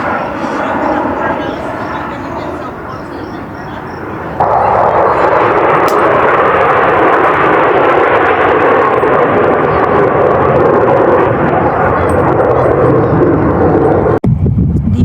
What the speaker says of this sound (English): The jets are refueling from this big plane right in midair.